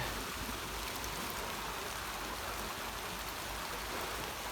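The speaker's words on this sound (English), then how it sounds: "It's been a while since I've walked in this much rain." Steady, dense downpour of heavy rain, a constant loud hiss of water falling all around with no other sounds.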